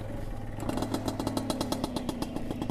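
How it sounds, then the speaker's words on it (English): A 1970s Honda PA50 moped engine catches after a brief start and settles into a steady, close, loud putter with a fast even beat and rattly clatter, running alone without talk. "That's how you start a 1970s Honda Pa50, Pa52, and the Honda Camino."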